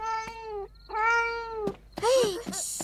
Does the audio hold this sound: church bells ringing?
no